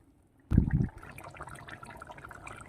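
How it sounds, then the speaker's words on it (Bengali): Two bowls of water poured into chicken curry in a pan, a short splashing burst followed by quiet simmering and bubbling. "এইবার দিয়ে দিচ্ছি দু বাটি জল"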